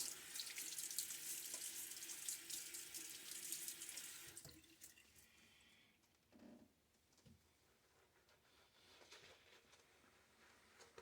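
A bathroom tap runs hard into a sink for about four seconds while a face is splashed, then shuts off, leaving faint drips, small splashes and quiet handling sounds close by.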